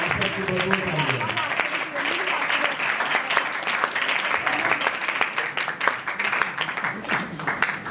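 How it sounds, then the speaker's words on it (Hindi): Audience at a church worship night in Pakistan claps for performers, a dense, steady round of applause lasting several seconds, with a voice talking briefly over the opening. "आप सबकी भरपूर तालियां।"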